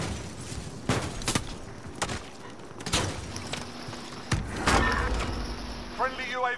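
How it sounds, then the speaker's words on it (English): Gunfire in the video game Warzone with a Grau rifle in play, several sharp shots and bursts spaced a second or so apart, close and loud, with a voice speaking briefly near the end. "somebody shooting at me"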